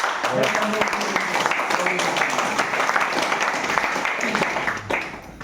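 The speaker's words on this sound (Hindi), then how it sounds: "एक बार जोरदार ताली हमारे से" Audience applause at a company information meeting, a crowd clapping in a dense wash beneath a speaking voice that keeps talking over it, fading near the end.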